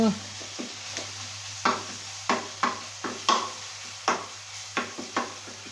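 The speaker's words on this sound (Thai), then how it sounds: "พริกแกงผัดน้ำมันให้หอม" Curry paste sizzles in hot oil in an iron wok while a utensil scrapes and stirs in irregular strokes, a dozen or so close scrapes over a steady fry.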